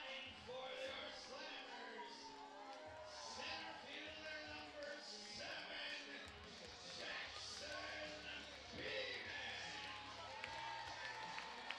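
A crowd at a Joliet baseball game cheers and shouts throughout, noisy and sustained, with a play-by-play announcer talking over it.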